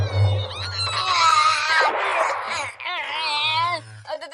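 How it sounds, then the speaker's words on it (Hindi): An angry Iriomote wild cat in a cartoon yowls and snarls in a loud, wavering caterwaul that rises and falls over about four seconds, ending in a few short hisses. "ये तो इरियोमोट वाइल्ड कैट है। अरे इसे तो बहुत गुस्सा आ रहा है।"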